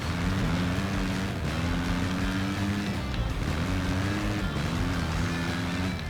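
A motorbike engine drones steadily in a Rossi career racing game, a loud, continuous buzzing whine that rises and falls in pitch as the bike shifts through the gears.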